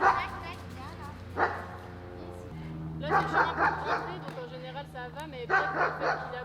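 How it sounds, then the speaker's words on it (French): A dog yips and barks in quick, high bursts nearby while a person talks over it. "Ah, c'est le chien qui aboie."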